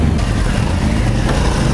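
Engine and exhaust of a 2018 Triumph Speed Triple 1050 RS with stock silencers, a loud, continuous mid-pitched drone heard close and on its own.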